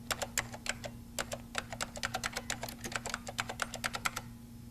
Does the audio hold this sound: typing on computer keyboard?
yes